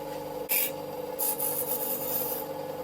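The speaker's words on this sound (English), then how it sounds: "I'm just going to grind the teeth off so it's a lot smoother when we've got it in our hand" A grinder works the teeth off a homemade half-diamond lock pick, giving a steady buzzing hum broken by a few short, bright rasping bursts as metal meets the wheel.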